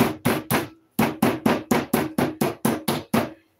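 A three-way meat tenderizer hammer, fine side, pounds meat on a board in a steady series of about a dozen heavy, evenly spaced thuds, close and loud.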